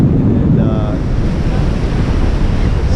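Ocean surf at Ocracoke Inlet rolls in as a steady, loud, close wash of breaking water, with wind buffeting the microphone throughout and no talking.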